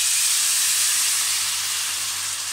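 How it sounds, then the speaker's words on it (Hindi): Milk poured into hot roasted gram flour (besan) in a pan for halwa gives a loud, steady hiss of steam and sizzle that stays even throughout, with one brief knock near the end and no talking. "हम इसमें 1 कप दूध डाल देंगे"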